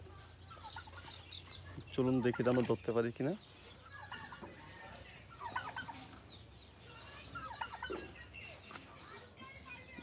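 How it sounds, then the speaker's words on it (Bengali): Young turkey chicks on a poultry farm let out a quick burst of close, loud peeping calls, followed by quieter scattered cheeps while someone talks nearby. "এই যে দেখতেছেন এরা হলো আমাদের টার্কি মুরগি বাচ্চা"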